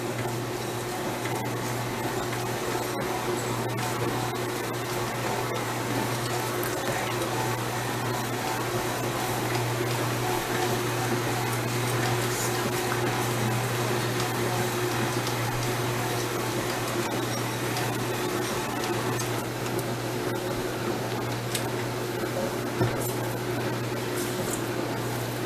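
Steady electric stand mixer working meatloaf mixture in a home kitchen, a continuous even motor whir with a low hum, close and constant, with no voices.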